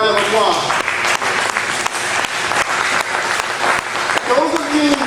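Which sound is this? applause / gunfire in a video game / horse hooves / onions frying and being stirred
applause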